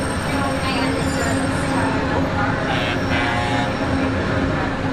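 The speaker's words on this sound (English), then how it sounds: "Another monorail." Disneyland Monorail train arriving at a theme park station, a steady close rumble of the train with faint high squeal, continuous and loud throughout with no clear speech.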